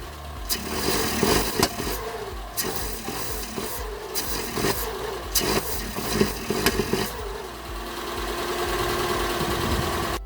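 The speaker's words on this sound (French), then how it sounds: "on va bien voir sur le papillon quand ça s'ouvre que j'accélérais ce que ça faisait" Peugeot 1.4 TU petrol engine with faulty ignition, revved with the air box lifted off, giving rough, uneven bursts of engine noise and a steadier idle near the end.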